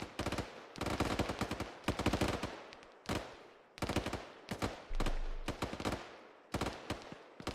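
Repeated bursts of AK rifle fire in the military shooter Arma 3, loud and close, several automatic strings separated by short pauses.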